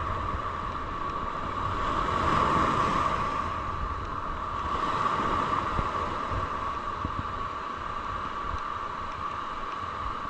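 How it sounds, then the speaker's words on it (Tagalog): Steady roar of surf and wind over open water during a storm, with a swelling rush of big waves building and receding, continuous and fairly loud throughout. "Grabe, laki ng alon, no?"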